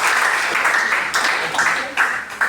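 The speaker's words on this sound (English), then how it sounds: "Can we give a loud applause?" Audience at a nursing college midwifery orientation gives loud, continuous applause, dense clapping that swells and dips in waves with no pause.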